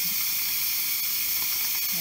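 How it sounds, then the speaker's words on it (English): Steam rushes steadily out of a Pampered Chef pressure cooker, a loud, continuous hiss that holds unbroken throughout with only faint background sounds beneath it. "The count up to see how long it takes for the steam to get out."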